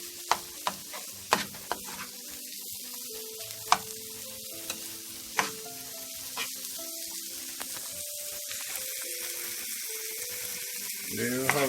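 Slices of breadfruit fry in a pan for a Jamaican breakfast, a soft steady sizzle punctuated by scattered sharp clicks and taps of a utensil against the pan.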